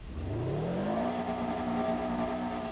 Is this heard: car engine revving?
yes